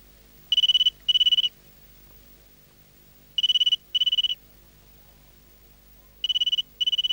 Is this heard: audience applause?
no